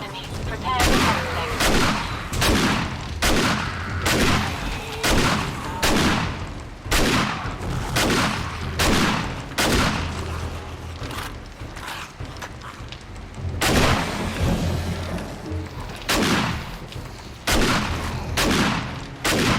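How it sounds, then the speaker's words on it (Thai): Repeated shotgun blasts in the survival game 7 Days to Die, loud close booming shots at a steady rhythm roughly once a second, continuing throughout with some mechanical clatter between shots. "แล้วปืนแรงมากเลยค่ะ เห็นไหมคะ ปืนลูกซองค่ะ"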